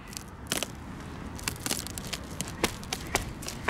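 Ice breaks and crunches underfoot over water in repeated crackling, snapping steps, close and fairly loud, with no talking.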